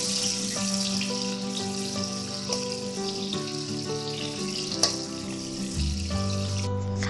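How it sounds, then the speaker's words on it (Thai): Steady oil sizzle of chili and garlic frying in a pan hisses continuously beneath gentle background music, with no talking. "นำกระทะตั้งไฟใส่น้ำมันลงไปเล็กน้อยนะคะแล้วรอให้ร้อนจากนั้นก็นำพริกกับกระเทียมนะคะลงไปเจียวจนหอมค่ะ"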